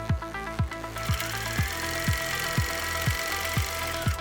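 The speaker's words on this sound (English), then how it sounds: "Now we just have to sew everything together." A sewing machine stitches pieces of a puppet's vest together, running with a steady mechanical whir and regular thumping needle strokes about twice a second, close and fairly loud with no talking.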